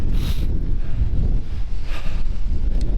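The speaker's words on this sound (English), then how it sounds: "I know it's probably windy" Wind buffeting a microphone outdoors by rock pools near Pinecrest Lake, a steady loud low rumble with gusty surges throughout and no voices.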